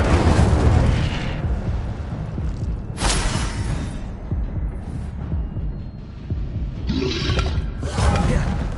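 Incendio fire spells blast in Hogwarts Legacy, with sustained loud booming rumble and sharp fiery bursts repeating through the scene, heavier near the middle and toward the end.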